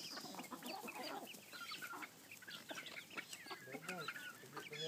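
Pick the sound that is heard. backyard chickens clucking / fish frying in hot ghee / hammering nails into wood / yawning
backyard chickens clucking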